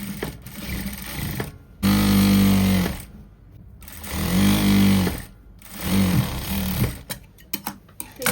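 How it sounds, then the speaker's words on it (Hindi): A sewing machine stitches a farshi salwar in three loud running bursts, separated by short pauses and light handling clicks, with no voices. "अब यहाँ पे रोक लेंगे अब, क्योंकि हमारा पोंचे से ही लगेगी सिलाई दूसरी साइड से भी"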